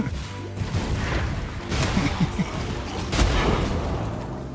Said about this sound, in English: Now it's just more like explosions everywhere.